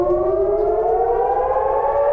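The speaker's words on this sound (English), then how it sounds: "When sirens warn of a rocket attack" A civil defense siren warning of a rocket attack in Eilat, southern Israel, wails loud and steady with a slowly rising pitch, sounding alone without any voices.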